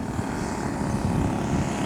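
A Nick Ziroli-designed model airplane landing at an outdoor fly-in, its engine a steady, droning buzz throughout, fairly loud and close with no talking.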